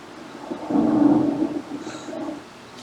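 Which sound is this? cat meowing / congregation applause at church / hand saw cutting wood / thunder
thunder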